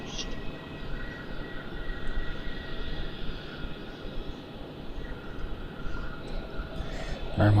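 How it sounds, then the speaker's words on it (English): A Virgin Boeing 737 MAX taking off at Melbourne Airport, heard from a distance as a steady broad engine roar under wind and outdoor ambience. "And as Victor's mentioned, there's a Virgin 737 MAX on 27 minute takeoff heading to the Gold Coast."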